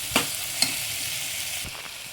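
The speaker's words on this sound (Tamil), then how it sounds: "இஞ்சி பூண்டு பேஸ்ட் போட்டதுக்கப்புறம் சிம்மில் வச்சுருங்க, அடி பிடிக்கும். கொஞ்ச நேரம் சிம்மில் வச்சுட்டு வதங்கட்டும்." Steady sizzling of paste frying in a hot pan, with a couple of brief scraping stirs near the start.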